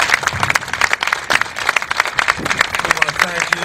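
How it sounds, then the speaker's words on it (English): A crowd at a Walk for the Wounded press conference gives a round of applause for three honorees, with uneven clapping that rises and falls and some chatter mixed in. "But just one more round of applause for Jason, Trevor, and Mike, please."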